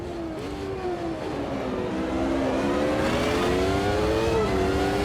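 A McLaren MP4/8 Formula 1 car from the 1990s racing at Adelaide in Automobilista 2, its high-pitched engine wailing steadily and climbing through revs with smooth gear changes, loud and close.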